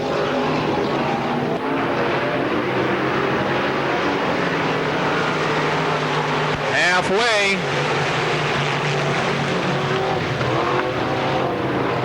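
Race cars roar steadily around the Pennsylvania Motor Speedway oval in Pittsburgh during a regular weekly show, the engine noise dense and continuous beneath an announcer's running commentary.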